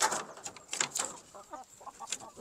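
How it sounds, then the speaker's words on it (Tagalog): Kanawayo breeder chickens, gamefowl, cluck and call close by in a quick run of short, uneven bursts, some louder notes followed by softer chatter. "Ito naman, ang ating Kanawayo na breeder, si Tres."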